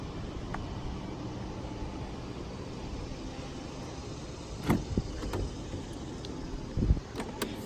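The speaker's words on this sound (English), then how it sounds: "Of course, you have full automatic windows." Power windows in a 2019 Lexus UX 250h hybrid whir quietly as they move, a faint steady motor hum inside the cabin with a couple of soft clunks as the glass stops.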